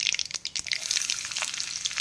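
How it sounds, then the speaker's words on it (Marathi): Mustard seeds splutter in hot oil during tempering for a masala bhindi dish, a dense, close run of sharp crackles and pops that never lets up. "ऑलरेडी मोहरी तडतडली आहे"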